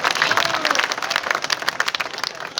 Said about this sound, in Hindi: जोरदार तालियों से एक बार स्वागत करते हैं